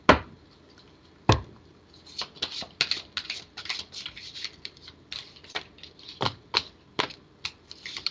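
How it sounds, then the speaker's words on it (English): Tarot cards being shuffled by hand, a run of crisp papery riffles and flicks with sharp taps, close and fairly loud, with no talk. "I just can't shuffle very well tonight."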